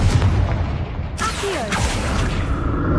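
The Confringo fire spell explodes in Hogwarts Legacy, a loud close boom with a burst of crackling noise and a whooshing swoop, followed by a sustained rumbling tail.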